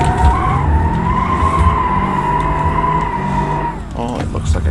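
Car in the BeamNG driving game skidding through an uphill J-turn with a manual transmission: a loud, sustained engine and tire-squeal tone holds for several seconds, then breaks off abruptly into scrappier, rougher noise as the car whips around, with talk over it.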